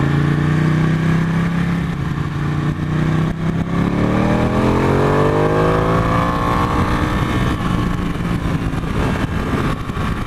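A 2015 Ducati 899 Panigale's engine revs loudly and continuously, its pitch dipping and then climbing steadily in a smooth sweep, with no talking.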